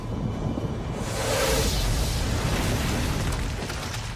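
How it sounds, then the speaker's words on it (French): Red Eye, a video game boss, blows apart in a sustained, roaring explosion that swells to a broad rumbling peak and slowly fades, with no voices. "Vous finissez par littéralement faire exploser Red Eye"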